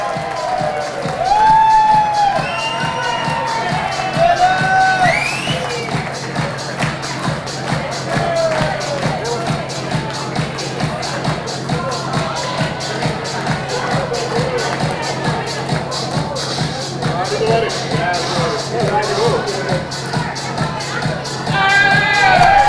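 Audience cheering and crowd noise at the 2014 Gouden Zadel (Golden Saddle) award ceremony in a large studio in Drachten, a loud sustained roar of many voices with whoops and rhythmic tapping, steady throughout with no pause.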